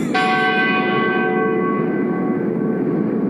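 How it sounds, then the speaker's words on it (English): A single bell is struck once, with a bright, clear strike that rings on as a long, slowly fading tone, close and alone. "He rings the bell whenever he gets a haircut."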